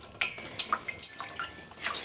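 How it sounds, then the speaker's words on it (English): Meltwater from frozen food thawing in the sun drips in a quick, uneven series of light plinks, close and clear against a quiet background. "And they're just going to drip, drip, drip."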